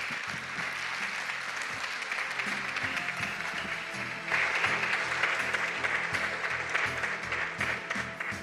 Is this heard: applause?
yes